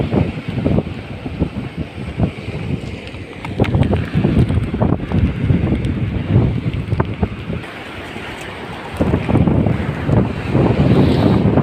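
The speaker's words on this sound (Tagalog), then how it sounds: "Lakas talaga ang alon." Strong sea waves crash and wash along a shore while gusty wind buffets the microphone, a loud, continuous roar with surging peaks and no speech.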